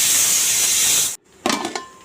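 Amaranth leaves with green chilli frying in a pan give a loud, steady broadband sizzle that cuts off abruptly, followed by quieter scraping and clattering as the pan is stirred.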